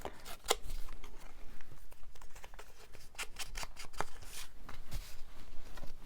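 Scissors snip through a small piece of paper scrap, a string of quick, crisp close cuts with short pauses between them, with no talking over them.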